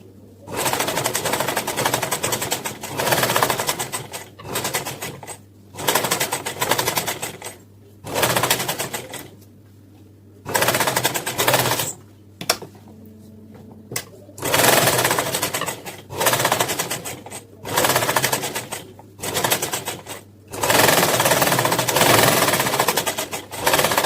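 A sewing machine stitches a kurta neckline from the outside, running in loud, fast bursts of several seconds with short pauses between, close and steady with a mechanical hum.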